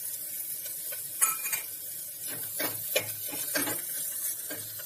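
Three large peeled, chopped garlic cloves frying with spinach in an oiled pan for a Kashmiri lotus stem and spinach curry, a soft steady sizzle broken by several scraping stirs and light clinks, no voices.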